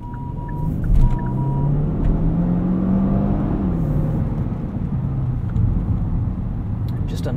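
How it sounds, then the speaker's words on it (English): Interior of a 2018 Genesis G80 3.3T Sport RWD accelerating, heard binaurally: a loud, steady low rumble with a rising engine tone and a shift partway through, while a voice talks in the cabin. "Just a nice surge of acceleration."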